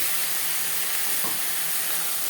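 A ground paste of garlic, onion and tomato hits frying onions in hot oil, giving a loud, steady, close sizzle that fills the whole moment without a break.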